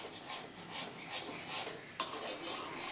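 A spoon slowly stirs pointed gourd paste in a pan, making soft, rhythmic scraping strokes. The sound is quiet and close, with one sharper knock near the end and no voices.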